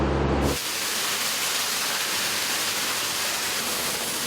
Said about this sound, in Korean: 강한 바람이 나오는 에어건으로 양파 껍질부터 벗기는 것이 작업의 첫 단계입니다